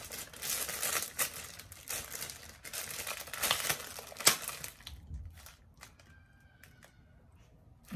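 Small plastic packaging holding Gucci socks crinkles and crackles close by in irregular bursts for several seconds, then fades to a few soft rustles.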